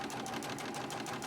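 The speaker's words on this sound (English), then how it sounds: "I'm just going to sew straight down this top edge with a 1/4 inch" A sewing machine stitches a quarter-inch seam along the top edge of fabric for a zipper bag, a steady rapid whirring hum running continuously and close up.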